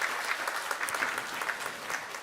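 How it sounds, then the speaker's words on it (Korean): A church congregation claps together at a Sunday worship service, a steady, dense wash of applause filling the room without a break from start to finish. "박수 한번 하시려면 뜨겁게 한번 해주시면 감사하겠습니다"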